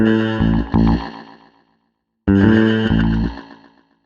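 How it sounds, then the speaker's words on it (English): A mid-range-heavy bass guitar plays through a slapback delay, two short phrases of plucked notes, each trailed by a quick echo that lengthens and smears the decay, loud and close with no talk. "There's something that I like about using a slapback delay on a bass guitar that's heavy in the mid-range."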